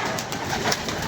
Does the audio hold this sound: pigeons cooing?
yes